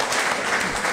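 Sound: audience applause for the film crew and actors

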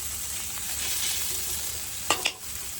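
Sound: leafy greens frying in a pan

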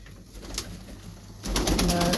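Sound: breeder pigeons cooing on rooftop

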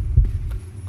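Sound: heartbeat sound effect in video game Dungeon Nightmares

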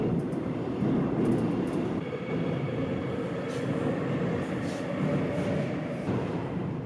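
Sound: noise inside subway train

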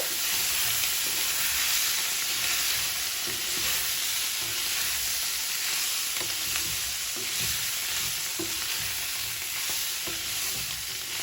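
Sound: mixed vegetables frying in a pan

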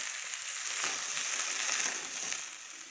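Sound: stirring fish curry with salt and turmeric in pan

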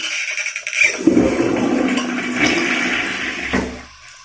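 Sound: toilet being flushed while unclogging

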